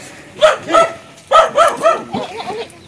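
Several pet dogs bark nearby in a quick, loud series of about six yips and barks, the last ones softer and tapering off.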